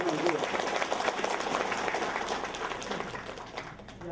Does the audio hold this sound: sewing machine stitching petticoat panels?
no